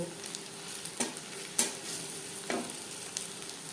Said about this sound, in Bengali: ক্রিস্পি করে আলু ভেজে নেব।